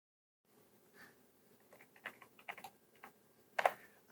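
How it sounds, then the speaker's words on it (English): Fingers tap out a name on a computer keyboard at a lighting control desk, a quiet, irregular run of soft clicks building to a sharper cluster of keystrokes near the end, with no talking. "And as soon as I do that, I can then type in a name on my keyboard."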